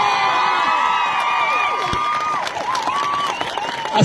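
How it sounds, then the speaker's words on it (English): Crowd applause with cheering and whoops at an outdoor Nakba commemoration rally in Manchester, steady and loud for about four seconds, with scattered shouts and a voice mixed into the clapping. "Everybody give him a big round of applause."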